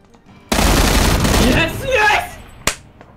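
Burst gunfire in the PUBG video game, a loud dense volley of shots lasting about two seconds followed by a single sharp crack, with a voice faintly present.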